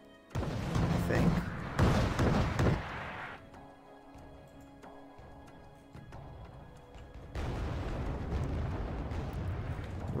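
Naval deck guns fire in the Wargame video game: heavy booming salvos with a rumbling roar that fades into quieter battle ambience, then another sustained burst, with a voice commenting over it.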